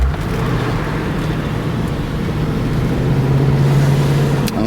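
A 2002 Ford Thunderbird V8 under acceleration, a steady loud engine rumble with road noise that rises slightly in pitch toward the end, no talking.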